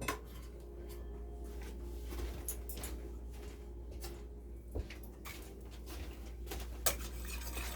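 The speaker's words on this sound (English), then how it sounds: "And I am going to use a wire whisk for this." A wire whisk stirring cream in a pot, with quiet repeated clinks and light scraping against the pot over a steady low stove hum, fairly faint throughout.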